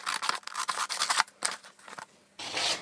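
Scissors cut A4 paper down to an 8x10 size, giving a rapid run of close, crisp snipping and rustling strokes with a short pause before a final longer slice.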